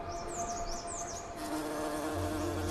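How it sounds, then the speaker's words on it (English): Hairy mountain bees buzz near Himalayan flowers, a close droning hum with shifting pitch as they move, alongside chirping insects in the background. "a plant with fur that's visited by hairy mountain bees"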